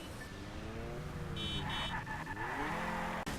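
A car races in the video game Wheelman: its engine revs up and down in rising and falling sweeps, with tire noise, then a sharp cut near the end. The car is loud and close, with no talk over it.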